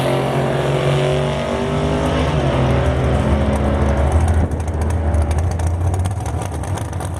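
A Plymouth Duster making a drag strip pass on an Edelbrock AVS carburetor, its engine roaring loud and steady throughout with a shift in pitch partway through the run.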